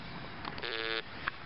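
A metal detector sounds a short tonal beep that signals a target in a field, brief and moderately quiet against faint background noise.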